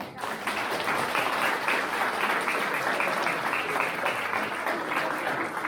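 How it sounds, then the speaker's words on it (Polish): Sustained applause from a crowd at a parish anniversary celebration, dense and even clapping that holds steady throughout at moderate loudness. "wielkie brawa"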